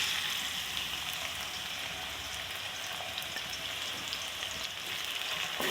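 Onions frying in very hot oil with whole spices like cardamom and cinnamon, a steady soft hiss and crackle throughout, close and fairly quiet, with no talk.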